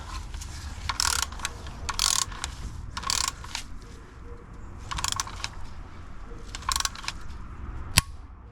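A ratchet wrench tightening a bolt on a Peugeot PureTech engine, with several short bursts of rapid clicking separated by pauses, close and fairly loud, ending with a sharp metallic tick.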